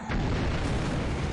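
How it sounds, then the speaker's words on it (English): Deck gun shell hits on a cargo ship in the War in the Pacific naval strategy game, fired from a submarine's 4-inch deck gun, heard as a loud, dense, sustained explosive boom that fills the whole short moment. "But we do have a 4-inch gun on the deck, and we're able to do some damage to the cargo ship."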